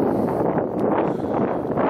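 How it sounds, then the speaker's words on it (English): Strong wind on open Kansas plains roars and buffets the microphone continuously on a sunny day, a dense rushing noise with no voices. "just super windy because wind blows for hundreds of miles"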